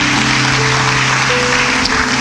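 A church congregation applauds in a dense, continuous wash of clapping that stays loud and steady throughout, with a low musical hum underneath.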